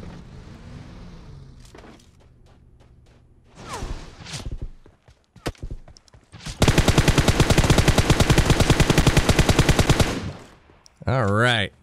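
PUBG Mobile gunfire: scattered single shots and short bursts, then a long loud burst of rapid automatic fire, with a few quieter movement sounds between.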